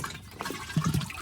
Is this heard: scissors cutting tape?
no